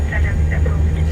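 The engines of an Ilyushin IL-76 transport aircraft drone at takeoff power, heard from inside as a heavy, steady low rumble with a constant hum and a faint high whine.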